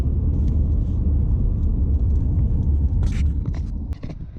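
A Lexus LS400 out on a test drive gives a steady, close low rumble of engine and road noise, with a few brief higher whooshes near the end and no talking.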